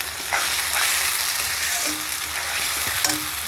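Ground spice paste frying in hot oil in a pan, a dense continuous sizzle up close with a few light stirring scrapes and knocks.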